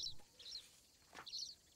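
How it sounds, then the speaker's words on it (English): In the wildlife adventure game Alba, soft birdsong plays in short chirping bursts, a few high twittering calls with gaps between them over a quiet background. "Oh god, you can listen to the bird calls."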